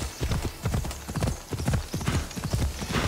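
Steady clip-clop of horse hooves in a quick, regular trot in the video game Assassin's Creed Odyssey, fairly close and continuous throughout, with no talking.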